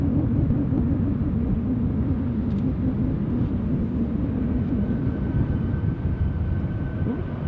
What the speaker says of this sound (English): Austrian Airlines A320 now rolling.